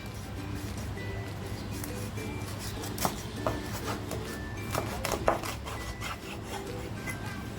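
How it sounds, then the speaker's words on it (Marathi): A knife cuts black pomfret fish into pieces on a board, giving close rasping, rubbing strokes with a few sharper knocks over a steady background hum. "हलव्याचे कसे पीस पाहिजे तसे कापून घ्यायचे तर मी कापून घेते"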